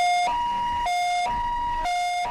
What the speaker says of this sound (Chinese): 救护车一路开得很急